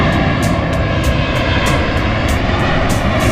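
Airplane taking off at Dallas Love Field, a loud continuous engine roar with broadband rushing noise and no pauses, close and steady with no talking.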